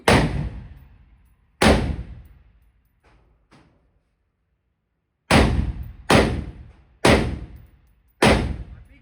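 An ARP pistol fired at an indoor gun range: loud sharp reports with booming decay, two shots early, a quiet gap, then four evenly spaced shots, close and with no talking.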